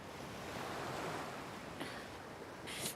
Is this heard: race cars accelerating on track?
no